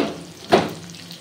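Ground cumin hits hot oil in a pan while cooking soyabean dopiaza, giving one short loud sizzling burst over a soft, steady frying hiss, with no voices.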